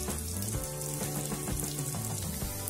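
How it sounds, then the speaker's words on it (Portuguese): Calabresa sausage frying in a pan, with a steady, loud close-up sizzle and crackle throughout and no voices. "é fritar bem essa linguiçinha aqui"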